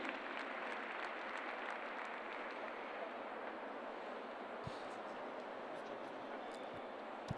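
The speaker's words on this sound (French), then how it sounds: "que vous pouvez une nouvelle fois applaudir avec Columbus Seal Gypsy" Audience applause at the Saut Hermès 2019 show jumping event, a broad, distant wash of crowd clapping held at an even moderate level, with a couple of brief knocks.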